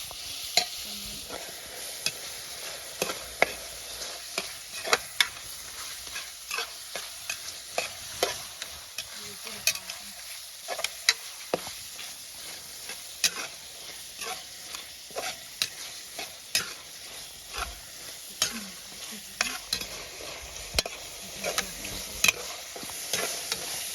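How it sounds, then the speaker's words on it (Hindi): Meat frying with Kashmiri red chili for methi maaz, a Wazwan dish, a quiet continuous sizzle punctuated by frequent sharp spoon scrapes and taps against the pan, steady throughout with no talking. "अभी ये बहुत टाइम तक अच्छे से इसको हमने ऐसे ही फ्राई कर लिया है"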